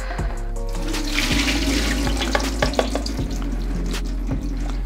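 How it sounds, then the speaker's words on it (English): Water drains from grated potatoes in a sieve over a kitchen sink for hash browns, a loud steady rush and splatter with occasional clatter against the basin, with no talking. "So what we are going to do is sieve all the water out."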